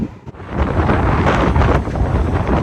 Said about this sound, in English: It's nice, it's windy.